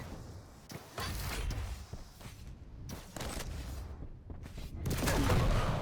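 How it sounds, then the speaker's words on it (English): Railgun shots fire in a fast Quake-style arena video game duel, loud sharp blasts cutting through a dense wash of continuous game noise, close and punchy. "Finally, K.Llsen going for a couple of rail duels."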